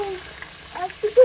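Fish frying in a pan makes a quiet, low sizzle, joined near the end by brief tonal sounds like a voice.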